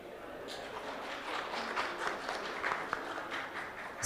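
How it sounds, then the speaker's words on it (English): A crowd claps in scattered applause, moderately distant and fairly soft, with some voices mixed in. "Please join us in giving a big round of applause to all our generous sponsors"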